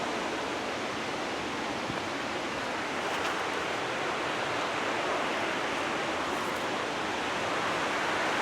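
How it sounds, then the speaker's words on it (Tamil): Uyilatty waterfall near Kotagiri, Ooty, rushing water making a steady, even hiss and roar heard from some distance, moderately quiet and unbroken, with no voices. "தண்ணி சவுண்டு வேறு லெவலில் கேட்குது."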